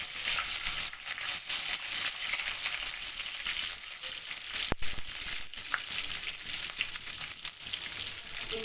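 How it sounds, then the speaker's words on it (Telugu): Whole garam masala spices fry in hot oil for paneer bhurji with a steady, close crackling sizzle, with occasional scrapes and a sharp clink midway, and no voices. "ఇప్పుడు నూనె కొంచెం వేడైన తర్వాత హోల్ గరం మసాలా మొత్తం వేసుకొని కొంచెం ఫ్రై కానిద్దాం."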